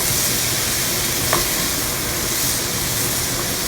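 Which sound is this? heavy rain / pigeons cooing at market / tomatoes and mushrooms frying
tomatoes and mushrooms frying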